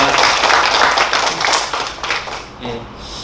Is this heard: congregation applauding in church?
yes